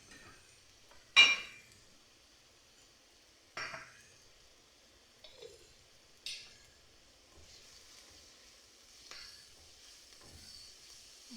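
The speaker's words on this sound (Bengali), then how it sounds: "এখন ভালোভাবে নেড়ে চেড়ে নিচ্ছি" Kebab mixture with tomato sauce and homemade spices being stirred in a pan, several sharp utensil scrapes and clinks against metal spaced a few seconds apart over a quiet, faint sizzle.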